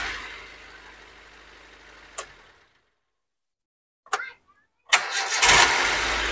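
Manual-transmission car engine cranks and fires, idles, is shut off into silence, then is started again with a brief crank and catch before running loudly at idle.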